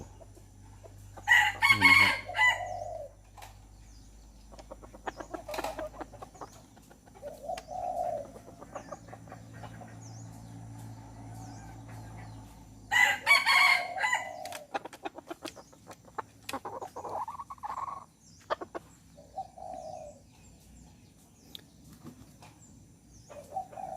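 A young fighting rooster crows loudly nearby twice, several seconds apart, with soft clucking and bird calls in between.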